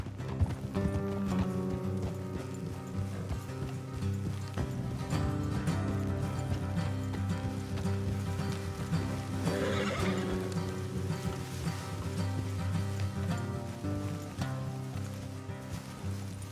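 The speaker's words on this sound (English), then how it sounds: "Let's leave the horses here and go the rest on foot." Horses in Red Dead Redemption 2 clip-clop along at a trot with a loud whinny partway through, over a steady bed of hoofbeats and ambient game sound.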